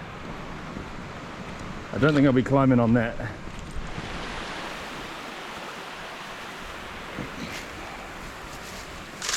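A New Zealand river rushing beneath a rock formation gives a steady, wide hiss of flowing water throughout, with someone speaking briefly over it near the start.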